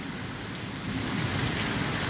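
Heavy October rainfall in Guajará-Mirim, Rondônia, a loud, dense and steady roar of rain on surfaces that swells slightly partway through, with no voices.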